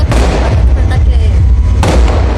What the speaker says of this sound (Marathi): बघा खूप फटाके आहेत.